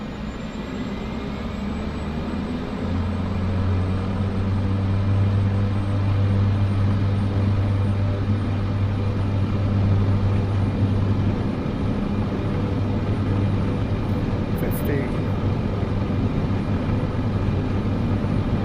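An airliner in Microsoft Flight Simulator 2024 rolls down the runway for takeoff. Engine roar stays loud and steady throughout, with a low rumbling drone that builds early and holds, and no speech.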